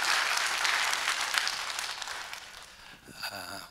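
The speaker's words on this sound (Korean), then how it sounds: "여러분 같이 한번 크게 박수 한번 해주시면 고맙겠습니다" A church congregation applauding loudly together during a service, a dense sustained wash of clapping that fades toward the end as a few voices and a brief tone come through.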